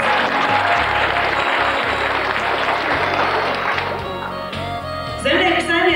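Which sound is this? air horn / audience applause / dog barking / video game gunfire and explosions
audience applause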